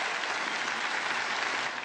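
Dense, steady audience applause fills the scene, many hands clapping at once in a continuous wash at moderate volume, with no other sounds standing out.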